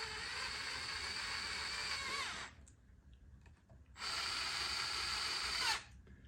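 A cordless drill on a low torque setting drives screws into a Onewheel board in two steady, close whirring bursts, separated by a short quiet gap.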